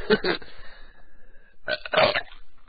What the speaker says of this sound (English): That was a burp, a vomit burp.